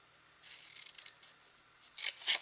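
Scissors snipping through a small piece of card stock, a few quiet close crisp snips ending with two sharper cuts, with no talking.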